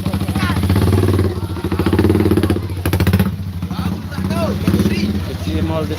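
Motorcycle engine revving close by at a neighbourhood music gathering, loud and continuous with rising and falling surges across the clip, played over by a rhythmic music band and voices.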